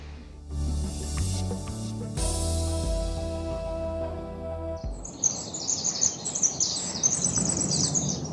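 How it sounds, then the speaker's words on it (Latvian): Birds chirp and sing in quick, bright bursts outdoors in a Canadian province. The singing follows a few seconds of sustained tonal sound and stays moderately loud to the end. "Ļoti skaisti dzied putni."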